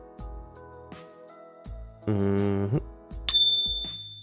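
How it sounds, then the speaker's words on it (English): A bell rings, struck a few times with short dull taps between, ending in one bright ringing ding that decays over about a second, heard alone with no voices. "the bell has only like what, a 10 second or a 1 minute cooldown"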